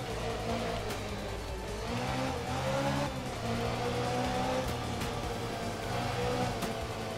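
A rally car engine in the video game Art of Rally revs and drones continuously, rising and falling as the car drives a mountain stage, with no talk.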